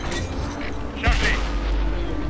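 A tank cannon fires once in World of Tanks, a single loud boom with a deep low rumble, heard against steady game background noise.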